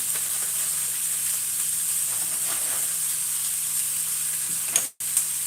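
Steady bright sizzle of grease heating in a frying pan while homemade burgers cook, constant and close with a brief cut near the end.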